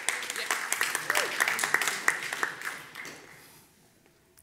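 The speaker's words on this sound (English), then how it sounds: "They clap when I cuss." An audience claps and applauds at a talk, a rattling burst of many hands that thins out and fades to near silence over a few seconds.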